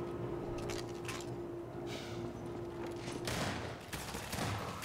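Scattered gunshots in Half-Life 2 pop in quick bursts over a steady background hum, fairly soft and slightly distant.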